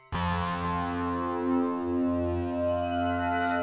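A sustained synthesizer wavetable tone starts abruptly and holds a rich, buzzy harmonic note whose upper overtones gradually fade, so the timbre slides from bright to darker over a few seconds, loud and alone.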